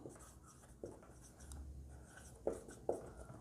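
Chalk or marker writes on a board during a maths lesson, producing soft scraping strokes with a few sharp taps, close and faint, in a quiet room with no talk.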